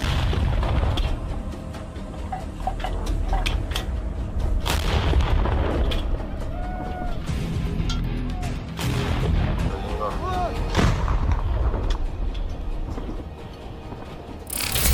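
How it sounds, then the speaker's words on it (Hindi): Ukrainian artillery fires around Bakhmut in repeated heavy booms and blasts across roughly fifteen seconds, with some fainter talk in between. "यूक्रेन ने उस बैखमत के इलाके पर तोप दागी हैं।"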